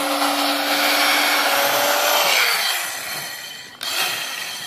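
A New-Tech 3-inch electric rotary cutter slices through fabric with a steady motor whir whose pitch drops as it winds down, followed by a short click near the end, close up with no talk.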